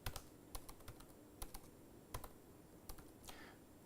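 Fast, irregular keystrokes on a computer keyboard while entering Python NumPy code, crisp and close-up clicks in uneven bursts with brief pauses, no talking.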